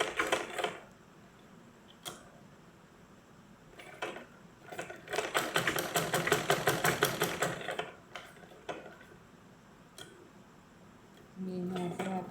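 A sewing machine stitches fabric in short bursts of rapid mechanical clatter, with the longest run in the middle and quieter pauses between. A voice talks briefly near the end.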